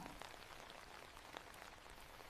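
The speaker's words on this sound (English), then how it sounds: "let the rain speak for me now" Gentle rain falls steadily in a soft, even patter of fine drops, a continuous hush with scattered brighter taps and no voices.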